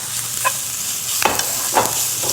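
Rice stir-fried with canned ham being mixed in a pan, a steady bright sizzle broken by a few close spatula scrapes, no voices.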